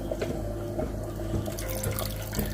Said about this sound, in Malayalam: ഇതിൽ ശർക്കര പാനി ഒഴിക്കണം